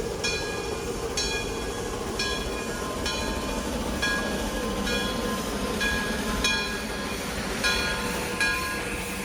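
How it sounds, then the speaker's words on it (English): A narrow gauge steam train hauled by Roaring Camp Shay No. 1 rumbles steadily up a mountain with continuous low mechanical noise, punctuated by regular metallic clanks roughly every second, heard up close with no voices. "the narrow gauge steam train ride up the mountain"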